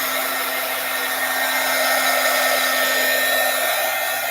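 A hair dryer blowing steadily on wet paint, a loud, constant close-up whoosh with a low motor hum and no breaks.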